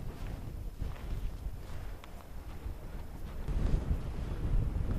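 Strong wind buffeting the microphone on the summit of Cairn Bannoch in Scotland, a low, continuous roar that swells louder toward the end, with no voices.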